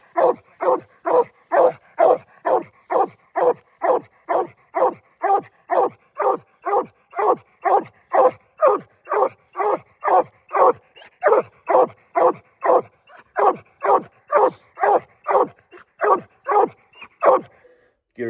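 A dog barks steadily at close range, roughly two loud barks per second in an unbroken rhythmic series with no pauses, nothing else audible.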